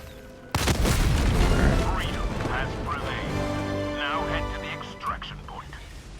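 A heavy booming blast from the Eruptor weapon in Helldivers 2 hits loudly and rings out, then someone talks over the fading rumble.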